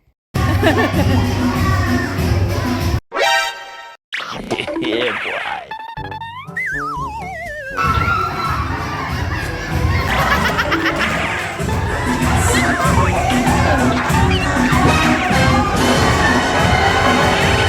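A lively crowd at a beauty pageant cheers and shouts loudly and continuously, mixed with laughter, after a brief burst of cartoonish sound effects; a voice calls out over the noise.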